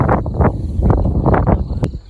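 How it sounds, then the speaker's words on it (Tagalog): Gusty wind buffets the microphone at a mountain campsite in low rumbling bursts that rise and fall, close and loud, with no talk over it. "Balik naman hangin"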